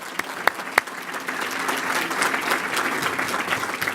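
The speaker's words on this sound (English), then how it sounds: "a round of applause for the Freed family." Audience applause at a county State of the County address, a steady broad wash of clapping from a room full of people, with a few sharper individual claps near the start, holding even throughout.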